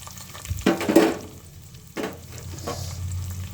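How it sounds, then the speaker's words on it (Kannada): Chopped onions go into hot oil and start frying: a sudden loud sizzling burst, a second splash of sizzle, then steady crackling frying with stirring, no talk. "ಎಣ್ಣೆ ಕಾದಿದೆ, ಈರುಳ್ಳಿ ಹಾಕ್ತಾಯಿದ್ದೀನಿ."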